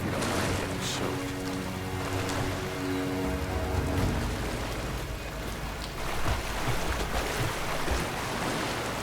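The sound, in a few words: rain in video game Rise of the Tomb Raider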